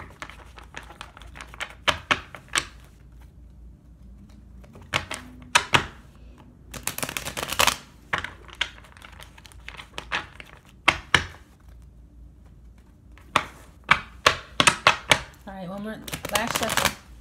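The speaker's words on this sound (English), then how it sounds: "Last shuffle." A deck of tarot cards is riffled and tapped close by in repeated quick bursts with quiet gaps between them. Brief speech comes in near the end.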